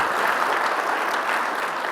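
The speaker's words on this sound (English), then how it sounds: "a big round of applause to all of you for joining us" A full-house crowd at a business leadership summit applauds continuously, a dense, even wash of clapping that stays steady throughout.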